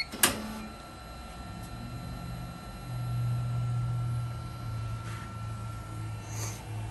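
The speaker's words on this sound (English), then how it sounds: "You can actually hear the cutter there." A Fuji ALM 3220 laminator running with its trimming cutter, a low mechanical drone and motor hum opened by a sharp click, with faint ticks near the end.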